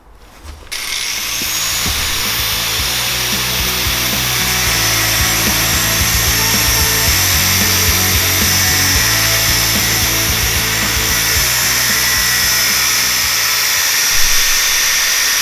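A power tool cuts steel for a Suzuki GS500 scrambler motorcycle subframe, running as one loud, steady, continuous grinding whine close by for the whole stretch, with no voices.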